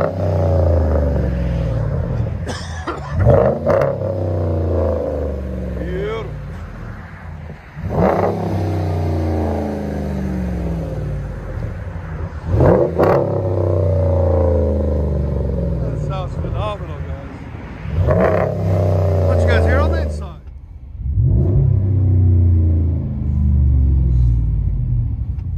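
A 2012 Ram 1500 with a 5.7L Hemi V8, dual exhaust and a Flowmaster Flow FX muffler rumbles at idle, broken by about five sharp revs that flare and fall back, loud and close.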